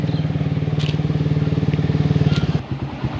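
A new motorcycle's engine idles close by with a steady, rapid putter, then drops off near the end into a rougher, quieter rumble.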